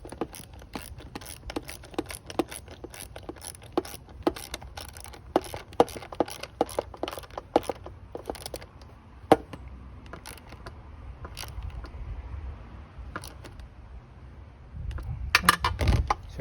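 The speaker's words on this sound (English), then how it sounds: "hold the bolt in place and just spin the nut" A 10mm nylon lock nut spins onto a bolt while fitting Barkbuster Storm hand guards to a Honda Trail CT125, giving a run of rapid metallic clicks and ratcheting ticks up close, then a brief rustle at the end.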